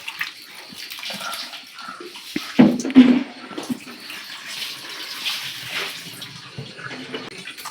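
Medicinal plant material, bark for a traditional decoction, being rinsed in a tub of water, with steady splashing and a brief louder slosh partway through, heard close up and with no talking.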